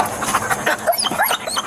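A police dog barks during a traffic stop, sharp repeated barks mixed with whimpers and scuffling close by over a noisy background.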